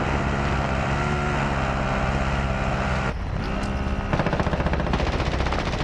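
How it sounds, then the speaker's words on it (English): Gunfire in Call of Duty: Modern Warfare over a droning engine hum, the hum shifting pitch partway through before a rapid stutter of automatic shots takes over near the end. "Yeah, I'm shooting at him."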